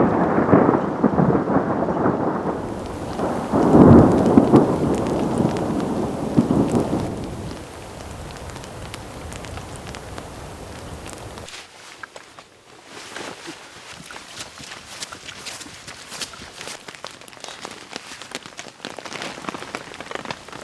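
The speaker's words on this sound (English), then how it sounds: "It's raining, as usual, so we're just kind of waiting this one out a little bit." Steady rain patters densely on a surface in the Wyoming outdoors, with low rumbles of thunder in the first half before the downpour settles into a softer, even hiss.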